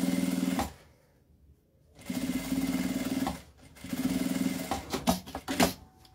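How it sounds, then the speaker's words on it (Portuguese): A sewing machine runs in close, steady bursts while stitching a line of topstitching along the lining of a clutch handbag, pausing briefly in silence before starting again and ending in short stop-start runs. "puxo o forro e vou passar um ponto aqui, uma costurinha rebatendo aqui embaixo"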